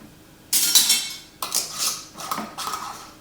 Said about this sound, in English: place your warm caps on top of your jars. Your rings on fingertip tight as usual